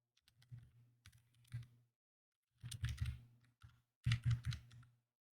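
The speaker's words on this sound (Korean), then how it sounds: "먼저 URL을 다음처럼 입력합니다." A URL typed on a computer keyboard in three quick bursts of key clicks separated by short pauses, close and fairly quiet.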